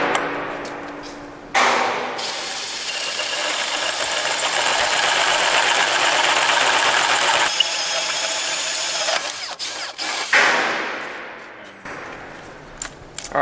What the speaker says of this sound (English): So we're going to cut through this piece of C-channel with an 1⅜-inch carbide tip Diablo.